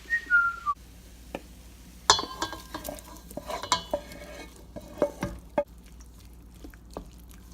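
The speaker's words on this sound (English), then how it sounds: "so I'm gonna go ahead and mix it in with our eggs" Wilted leaves and asparagus being stirred into an egg mix with a utensil, giving irregular close scrapes and clinks against a bowl or pan, with a brief whistle near the start.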